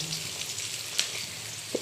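Onions and green chillies drop into hot mustard oil with whole cumin in a kadai, giving a brief, soft, steady sizzle with a couple of small pops.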